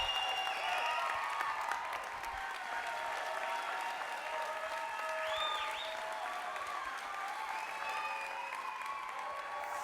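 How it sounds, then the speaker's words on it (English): A crowd at a fast pitch community event claps in sustained, even applause for about ten seconds, dense and moderately distant, with a few faint voices mixed in. "Let's give this group a big round of applause"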